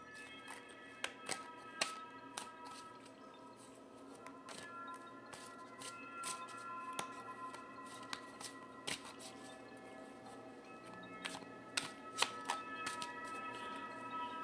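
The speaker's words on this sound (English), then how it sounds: "this deck is so huge. Gotta shuffle it this way" Cards riffle and snap in repeated bursts, quiet and close, with brief sharp clicks scattered over a faint steady hum.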